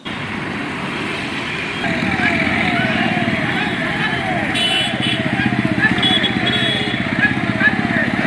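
Many motorcycle engines drone steadily together in a bike rally for Kargil Vijay Diwas in Mangalagiri, a loud continuous rumble with voices audible in the background.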